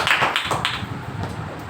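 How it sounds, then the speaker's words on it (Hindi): A church congregation claps together in a brief burst of applause, dense and fairly close, fading slightly over under two seconds with no talking. "एक जोरदार तालियां करवाएंगे"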